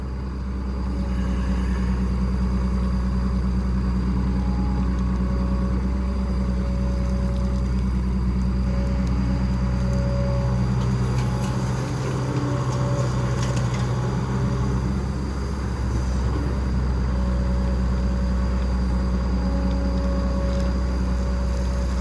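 A heavy diesel engine of a Caterpillar E120B excavator idles with a steady low rumble and hum, continuous and close, with a slight surge partway through.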